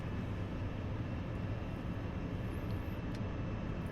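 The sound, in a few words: MiG-21 jet engine throttling back in the video game DCS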